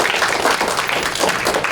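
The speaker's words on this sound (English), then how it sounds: "if we can all give them a huge round of applause" Round of applause from an audience honoring staff for their work with students, dense steady clapping filling the whole stretch at a moderate, even level.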